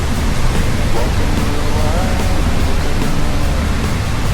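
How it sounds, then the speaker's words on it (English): Outdoor water near Miyagase Lake rushes in a loud, constant broadband roar, like a close stream or spillway, with no break in the flow. "We got water over here, water over there."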